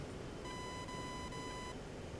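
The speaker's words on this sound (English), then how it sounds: "Beep, beep, beep." A warning tone in the DCS World flight simulator sounds as one steady electronic beep lasting just over a second, faint over a loud background hiss.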